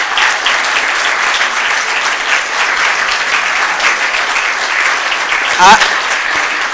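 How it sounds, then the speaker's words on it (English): Audience applause at a film premiere, a steady dense wash of clapping from a crowd filling the room for the whole stretch, with a brief louder burst near the end. "Give her a big, big round of applause"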